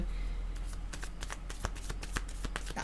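A deck of tarot cards being shuffled, with quick papery riffles and soft slaps repeating in an uneven rhythm, close and quiet against a low steady hum.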